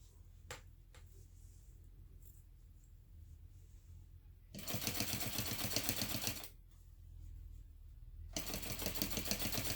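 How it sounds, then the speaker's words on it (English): A sewing machine top stitches around a fabric wrist strap for a clutch bag at stitch length 4, running in two bursts of rapid, even needle chatter separated by a quiet pause with faint handling clicks. "we're going to top stitch all the way around this wrist strap"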